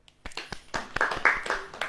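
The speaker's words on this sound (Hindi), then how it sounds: "ताली बजाएं।" A church congregation claps in a quick, uneven rhythm of sharp hand slaps, close and fairly loud, with no talking over it.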